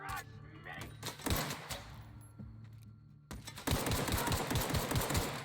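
Rapid gunfire from a first-person shooter game firefight in The Outer Worlds on Supernova difficulty, with bursts of sharp shots and a denser, louder volley later, mixed with game sounds and some voice.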